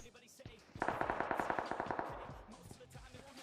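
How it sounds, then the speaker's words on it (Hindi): Automatic gunfire in PUBG Mobile at Rozhok: a rapid burst of about a dozen evenly spaced shots, fairly close and sharp, followed by quieter scattered sounds and faint background activity. "हमारे लेफ्ट साइड में भी गोलियां दबा के चल रही होती है"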